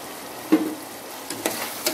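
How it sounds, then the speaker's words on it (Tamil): Curd and mutton masala sautéing in a pan for a restaurant-style mutton kurma, with a few quiet scraping stirs and soft sizzling bursts spaced through a fairly hushed stretch, no talking. "தயிரையும் சேர்த்து நம்ம இதிலே வதக்கிக்கலாம்."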